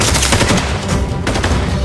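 Gunfire from a dubbed action film plays as dense, continuous rapid bursts of shots, loud and close, with no pauses across the whole stretch.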